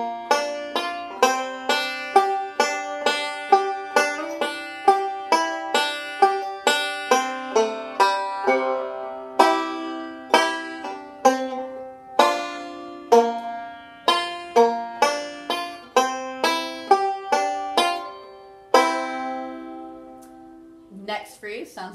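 Banjo picks out phrases, with sharp plucked notes in a steady rolling rhythm and occasional paired strings ringing together, close and clear with no talking.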